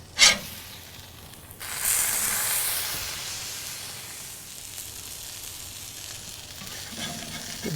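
Burger patties sizzle steadily on a hot flat-top griddle, a broad hissing fry that swells after a sharp clatter at the start and then settles into a constant crackle with no talk.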